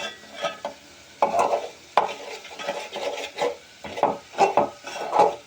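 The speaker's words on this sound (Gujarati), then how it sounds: "તપેલી થોડીક નાની પડે છે આપણને હલાવવામાં" A spoon scrapes and stirs through thick garlic potato gravy in a small pot, in repeated uneven strokes with short pauses between them.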